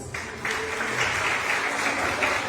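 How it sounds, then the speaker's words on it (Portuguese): Church congregation applause during a service, a steady wash of clapping that starts abruptly and holds at an even level. "as palmas louvam a Deus"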